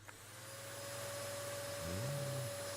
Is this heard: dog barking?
no